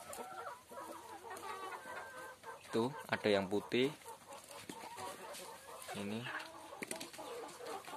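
KUB chickens crossed with Bangkok chickens cluck on a poultry farm, a steady mix of clucks from the flock with a few louder calls, while someone talks over them.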